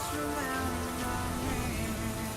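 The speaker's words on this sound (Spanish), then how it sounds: "El viento y la lluvia arreciaron con rapidez y se convirtieron en otra tormenta ensordecedora" A rain and wind storm roars as a dense, steady wash of rainfall with a low rumble and faint tonal whistling under it, continuous and loud throughout.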